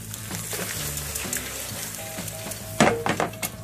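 Butter and olive oil sizzling in a frying pan, a steady soft crackle with a few louder knocks and scrapes of a utensil near the end, no talking.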